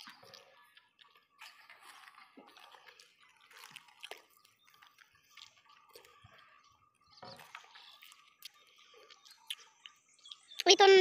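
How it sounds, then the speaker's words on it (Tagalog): Rainwater falling and dripping down from above during light rain, heard as scattered irregular drips and ticks at close range, fairly faint, with people talking quietly in the background and a louder burst near the end. "pag kunting ulan, dito bumabagsak na yung tubig"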